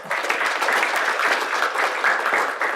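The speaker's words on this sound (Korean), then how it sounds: "교수님을 큰 박수로 맞이하겠습니다" Audience at a university admissions information session applauding to welcome a professor to the stage, a continuous, even patter of many hands clapping at moderate volume throughout.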